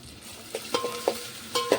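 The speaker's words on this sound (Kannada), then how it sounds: "ನಾ ಬೆಳ್ಳುಳ್ಳಿ ಮೆಣಸಿಕೆ ಮತ್ತು ಉಳ್ಳಾಗಡ್ಡಿ ಹಾಕಿ ಫ್ರೈ ಮಾಡ್ಕೊತೀನಿ" Garlic, chili and onion sizzling in hot oil, with a soft steady fry broken by a few sharp stirring clicks of a utensil against the pan, close and fairly quiet.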